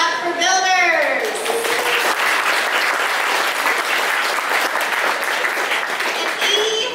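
Audience clapping at a company values presentation, a dense, loud burst of applause filling the room for several seconds, with a voice speaking over the start and end.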